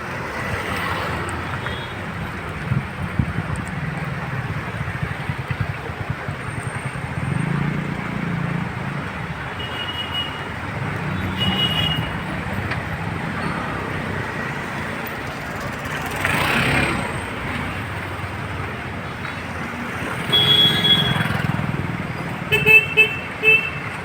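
Traffic jam on a road at Chandrapada near bridge construction, a continuous dense roar of idling and crawling vehicles with scattered horn toots near and far, no one speaking.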